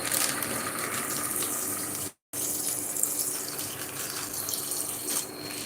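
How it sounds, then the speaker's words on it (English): A kitchen tap runs steadily, filling a pot of beans with a loud rushing stream. The flow stops briefly, then gushes on again until the end. "I think I need to add more water to the beans."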